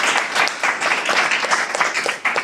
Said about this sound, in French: je pense qu'on peut applaudir Timothy.